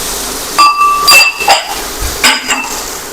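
Garlic chutney stirred into okra in a pan gives a run of loud, close metallic clinks and scrapes of a spoon against the cookware, several sharp strikes spread over a few seconds with quiet gaps between them.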